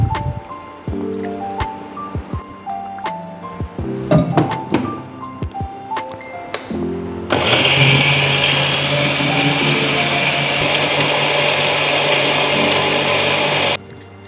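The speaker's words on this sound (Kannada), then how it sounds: "ತೆಂಗಿನಕಾಯಿ ಹಾಕಿ ರುಬ್ಬಿ ಅಷ್ಟೇ ಚಟ್ನಿ" A kitchen mixer grinder runs steadily for several seconds, grinding coconut chutney with a loud, continuous whir, preceded by clinks and thunks of ingredients and jar being handled.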